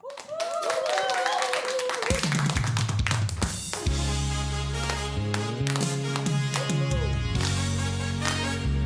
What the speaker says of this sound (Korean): 여러분 박수 주세요.